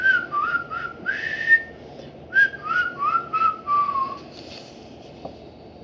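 A person whistles a short series of bright, clear notes in two phrases, close and alone with a quiet background, then a faint click at the end.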